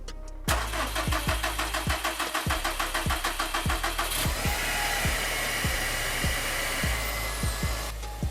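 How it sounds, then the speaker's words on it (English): A car engine cranks with a rapid, rhythmic starter chug for several seconds, then catches and settles into a steady idle, loud and close, with no talk. "Once I start my car"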